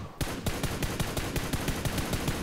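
Rapid automatic gunfire in PUBG Mobile, a steady stream of sharp, loud shots fired in quick succession for the whole stretch with no talk over it.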